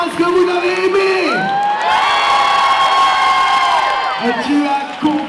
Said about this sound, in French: Par applaudissement, est-ce que vous avez aimé?